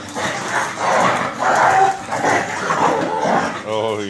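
Two dogs play-fighting indoors with MMA on TV nearby, giving repeated growls, yips and excited barks in bursts, close and loud, with a person talking over them.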